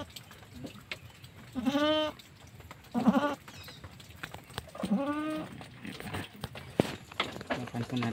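A newborn premature goat kid, born without hair, gives three or four short nasal bleats at close range, spaced a second or two apart, with low shuffling noises between them.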